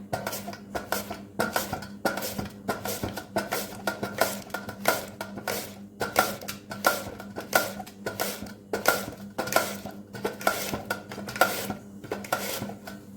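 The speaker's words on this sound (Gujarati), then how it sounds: "અને આપણે બટેટાને ખમણી લઈશું." Potatoes for chips are pushed across a handheld kitchen grater, making a steady rhythmic series of scraping strokes, close and moderately loud, repeating evenly throughout with no talk.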